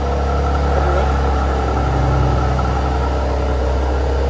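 A 2020 Mercedes C43 AMG bi-turbo with stock exhaust in comfort mode hums with a steady, even low engine drone close by, with no sharp rev spikes standing out.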